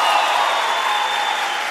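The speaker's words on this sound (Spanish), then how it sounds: "Un aplauso por Jefferson" Applause from a studio audience on a Colombian comedy show, honoring a contestant at the end of a contest; steady, dense clapping that fills the whole moment without pause, loud and sustained with no voices over it.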